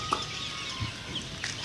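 A Mianwali Aseel hen gives a few short, soft clucks close by, over a low background murmur.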